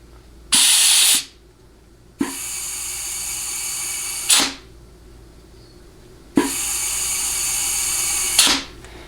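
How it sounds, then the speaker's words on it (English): Compressed air from a nozzle hisses in a high-pitched whoosh during a clutch air check on a 6R80 transmission under rebuild. Three long, loud blasts and one shorter one each cut off sharply, with quiet gaps between. "that higher pitched whooshing sound you're hearing is air coming out the back of the nozzle"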